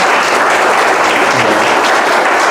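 Audience applause at the book launch of Cláudia Braga's novel Desígnios: dense, loud clapping from a full room that holds steady throughout without letting up.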